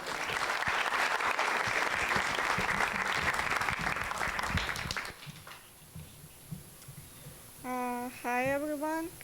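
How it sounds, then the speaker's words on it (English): An audience claps for a storyteller, loud dense applause for about five seconds that stops abruptly, followed by quiet room noise and then a voice speaking near the end. "Please, can we have a round of applause for the next storyteller"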